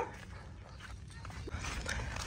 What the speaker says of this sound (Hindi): इधर से कुत्ते भौंक रहे हैं